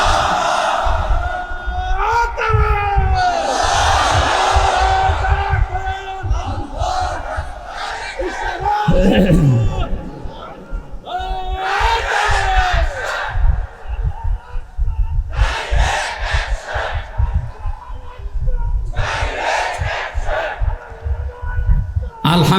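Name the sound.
crowd chanting takbir response at a religious sermon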